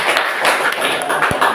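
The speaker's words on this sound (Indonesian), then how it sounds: "Iya, tepuk tangan dulu." A brief burst of group hand clapping in a room, with quick uneven claps running together for just over a second.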